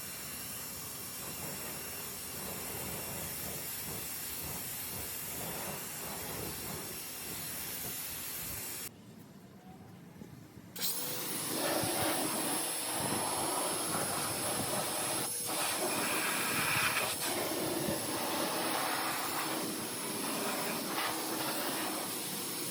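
A pressure washer sprays a loud steady hissing jet while rinsing car wheels during a winter wash, briefly stopping midway and then resuming with no voices.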